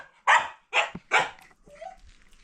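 A pet dog barks three times in quick succession, loud and close, indoors at a home during a family welcome, followed by a softer whine.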